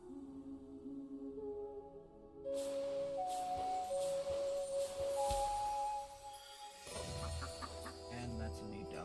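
Duck-like clucking calls from the Soulframe video game sound in short bursts over steady game ambience and tonal music.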